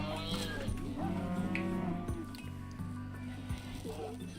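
Buffalo mooing in the farming colony game RimWorld, a low drawn-out bellow repeated a few times over steady game background sound and music.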